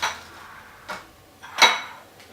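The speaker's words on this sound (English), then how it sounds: "So I'm just going to do this one by one. I'm just going to ladle it" A ladle knocks against baking pans while Oreo cheesecake batter is portioned in: three light clinks spaced under a second apart, fairly close and quiet.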